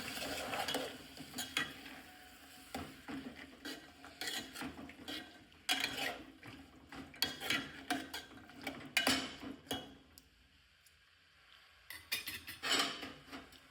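A spoon scrapes and stirs green chickpeas with onion, garlic and chili in a pan, irregular clattering strokes over a soft sizzle, with brief pauses between bursts.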